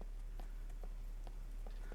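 A horse in the SCUM survival game clip-clops in a light, evenly spaced rhythm of hoof falls, moderately close over a low steady background hum.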